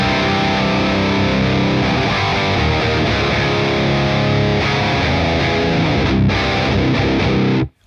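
Heavily distorted electric guitar in drop C tuning, played through a BOSS OC-5 octave pedal, chugging dense and loud throughout, cutting off abruptly at the very end.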